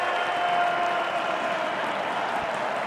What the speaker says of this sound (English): Vamos, say the crowd here in the Metropolitano